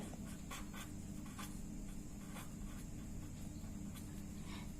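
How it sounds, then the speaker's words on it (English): A pen or marker writes out a chemistry reaction mechanism on a surface, producing faint scratchy strokes over a steady low background hum, with no talk. "we will write this group here"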